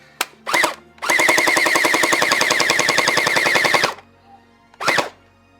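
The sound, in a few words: X-Shot toy blaster firing gel rounds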